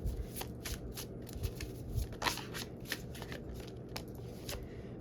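Tarot cards being shuffled and drawn: a run of quick, crisp riffling flicks and papery snaps, fairly close, over a low steady room hum, with no talk.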